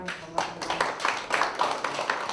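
Audience claps at a signing ceremony for a joint infectious disease response agreement between three cities, a steady run of hand claps with a voice speaking over them.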